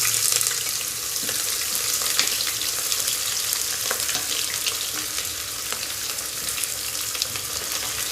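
Two sliced onions dropped into hot oil and frying for beef matar keema, a loud, steady, close sizzle with faint stirring crackles throughout and no speech.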